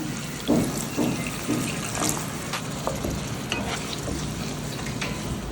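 Masala sizzles steadily in a pan after water is added, for dried fish thokku, with a few stirring clinks and scrapes early on, a continuous frying hiss underneath.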